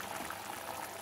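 A pot of tomato kurma curry simmers at a steady boil, a soft continuous bubbling hiss close by, alone without talk.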